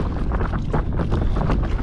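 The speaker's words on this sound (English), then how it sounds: "It was kind of a workout into the wind like that." Strong wind buffets the microphone while paddle boarding on open water near an atoll, a loud, continuous rumbling gust with no voices.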